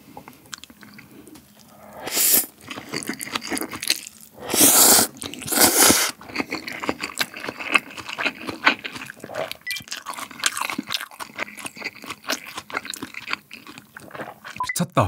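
Someone eats habanero lime buldak fried noodles topped with cilantro, with close, loud chewing, slurping and crunchy bites running continuously and never drowned out by speech.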